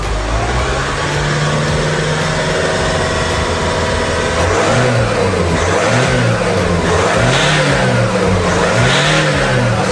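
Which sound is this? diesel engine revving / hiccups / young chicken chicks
diesel engine revving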